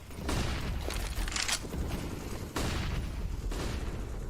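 Pistol gunfire in Counter-Strike, played in a professional match on the Nuke map, comes as a few sharp, loud shots spaced over a few seconds against a dense, steady background of game noise.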